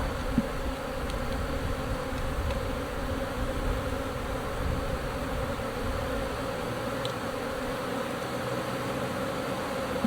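Honey bees hum steadily from an open hive during a split into nucs, a dense continuous buzz close by with a few individual bees passing, no talking.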